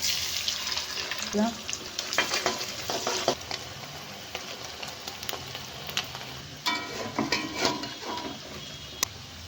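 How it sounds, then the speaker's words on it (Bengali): Vegetables with onion and green chilli fry alongside eggs in a pan for mixed chow mein, giving steady sizzling broken by scraping stirs and clacks throughout, with faint water or tap noise in the background. "আমার সবজিগুলো ভাজা হয়ে গেছে"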